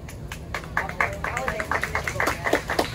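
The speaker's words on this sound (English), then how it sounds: "Thunderous applause." Passengers on the Bronx Zoo train ride clap at the end, a scattered burst of hand claps mixed with voices and chatter, close and moderately loud for a few seconds.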